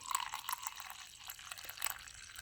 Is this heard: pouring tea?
yes